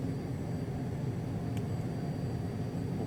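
Steady broadband cabin roar inside a Phenom 100 private jet cockpit before takeoff, a constant engine and airflow hum without a break and no talk.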